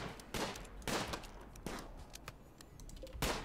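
Rapid bursts of gunfire in the colony-survival video game RimWorld, several loud volleys crackling out at intervals against a steady background, without talk.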